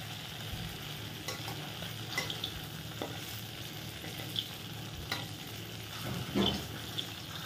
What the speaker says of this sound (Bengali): আস্তে আস্তে ভেজে নিতে হবে।